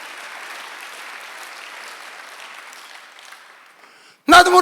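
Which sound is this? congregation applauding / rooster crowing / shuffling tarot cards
congregation applauding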